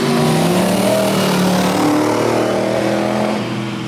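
A Dax Tojiero sports car accelerates hard at Alford Speedfest, its engine loud and close, rising in pitch through a short burst before easing slightly.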